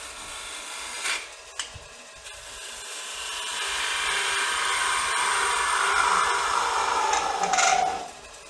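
A machine faces off the end of a threaded insert, giving a close, rising whirring and rubbing cut that builds steadily over several seconds after a few sharp knocks, then cuts off abruptly, with no talking.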